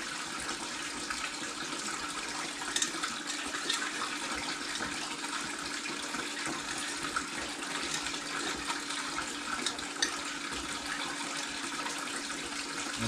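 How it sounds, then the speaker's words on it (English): A water pump runs, pumping clean water through it, with steady rushing and gushing water continuously for a long stretch, a constant mechanical hum underneath and no voices. "Pump is getting nice clean water."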